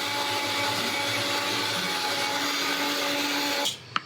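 Mixer grinder grinding coconut, a loud steady whirring motor roar that runs continuously before cutting off abruptly near the end with a brief clack.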